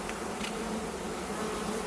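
Honey bees droning around an open Flow Hive during a hive inspection, a continuous dense buzzing at close range with no other sounds.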